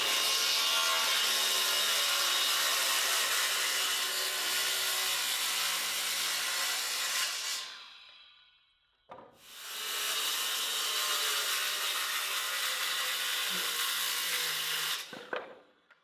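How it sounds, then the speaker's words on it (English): A saw cuts through a 2x12 wooden board into 12-inch lengths, with two long, loud, steady rasping cuts separated by a brief pause and ending abruptly. "Thought if I cut it into 12-inch lengths, have squares 12 inch by 12 inch"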